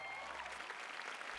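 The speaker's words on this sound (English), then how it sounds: "Look at how they're all clapping for Michelle Yeoh" Applause from the Academy Awards audience for the best actress nominees rolls on briefly, a steady thick clatter of many hands that stays level, with a faint low hum easing away partway through.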